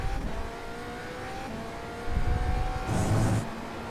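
GTP prototype race car in iRacing at the Algarve circuit, engine note holding through a corner then rising sharply as the throttle comes back on, moderately loud with no talk.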